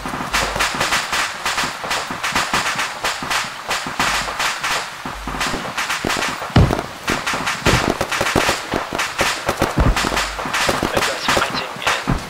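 Dense, continuous gunfire in an Arma Antistasi firefight on Altis, with rapid automatic bursts and single shots overlapping for the whole stretch, loud and close.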